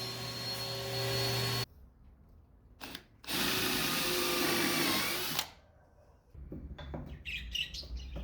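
A power saw cuts wooden desk parts in a home garage, with two loud sustained whining bursts separated by quieter gaps, followed by lighter handling clatter and some birdsong in the background.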